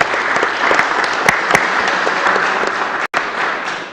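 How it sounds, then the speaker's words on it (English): A room at a city commission meeting breaks into dense, steady applause, close and loud, with a few sharp individual claps standing out and a brief dropout near the end. "So just another round of applause for you."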